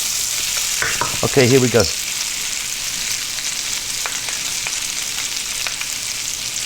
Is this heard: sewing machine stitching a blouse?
no